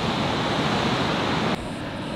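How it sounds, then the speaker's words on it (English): Ocean waves washing onto a beach where a stingray sting happened, a dense, loud roar of surf that drops abruptly near the end to a quieter wash. "Look at these waves."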